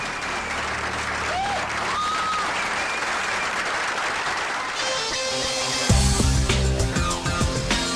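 An audience at the 2006 National Debate Tournament at Northwestern University breaks into sustained applause, a dense roar of clapping that swells louder near the end as music comes in.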